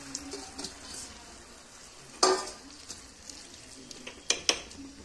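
Cabbage cooking in a pan as it is stirred, a steady low sizzle broken by a few sharp scraping clinks of the spoon against the pan.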